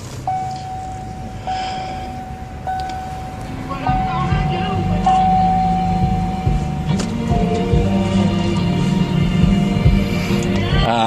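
A 1998 Cadillac Seville SLS cranks and starts about midway through, after a repeated interior chime, then settles into a steady low engine hum at idle.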